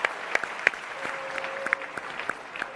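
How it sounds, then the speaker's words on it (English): Scattered clapping from an event audience thanking contestants and judges, thin and moderately distant, with sharper individual claps standing out over a steady background of room noise. "Let's give all the contestants and our judges a round of applause."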